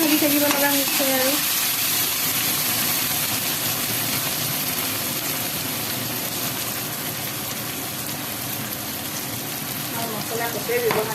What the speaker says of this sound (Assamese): বিলাহীও ভাজি থাকিব লগা হৈছে আৰু।